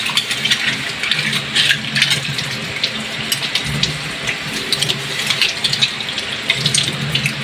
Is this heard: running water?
yes